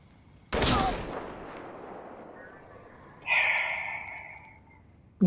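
Gunfire in the shooter game Battlefield Hardline: one sharp, close shot cracks early and rings off, electronic game tones sound later, and another abrupt burst hits at the very end.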